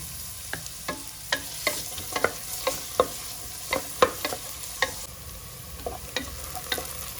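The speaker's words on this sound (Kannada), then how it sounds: "ಸಣ್ಣ ಕಟ್ ಮಾಡಿರೋಂಥ ಈರುಳ್ಳಿ ಹಾಕ್ಕೊಂಡು ಚೆನ್ನಾಗಿ ಫ್ರೈ ಮಾಡ್ಕೊಳ್ಬೇಕು" Chopped onions in oil inside a pressure cooker, stirred with steady scraping strokes about twice a second over a soft continuous sizzle, close and clear with no talk.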